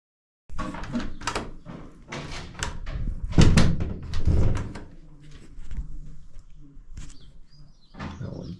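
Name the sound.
fixing a door handle, door being worked on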